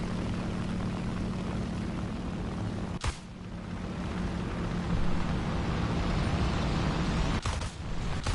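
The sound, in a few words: bomber aircraft flying by in a video game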